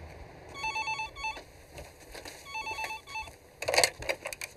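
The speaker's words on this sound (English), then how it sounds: "Hold on. My phone's ringing." A telephone rings in a film scene, its electronic trilling tone arriving in repeated short bursts, moderately loud and without speech, followed by a brief clattering sound at the end.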